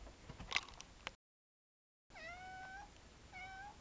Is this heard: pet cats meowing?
yes